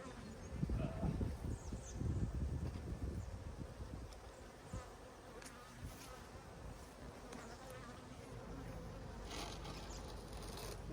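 Honeybees swarm and buzz around an opened, heavy, honey-filled beehive, a dense continuous drone close by, louder in the first seconds and then settling into a steady hum with faint rustling.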